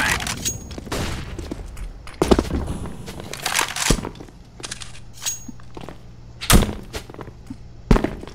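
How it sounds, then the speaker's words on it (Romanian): A flashbang grenade goes off in a military shooter video game, with sharp bangs and thuds among scattered gunfire and footsteps, the loudest blasts standing out near the end. "Deploying flashbang."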